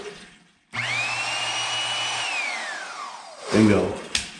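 A magnetic drill motor spins up abruptly, whines steadily at high pitch, then winds down with a falling tone before a brief clunk and rattle near the end; no talking.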